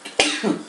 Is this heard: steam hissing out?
no